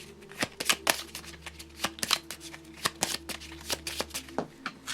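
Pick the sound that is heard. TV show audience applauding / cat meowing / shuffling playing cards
shuffling playing cards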